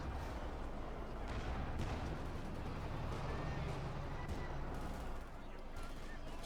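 Battle in the strategy game Company of Heroes 2, with grenade blasts and gunfire rumbling through a dense, continuous din, a commentator talking over the fighting.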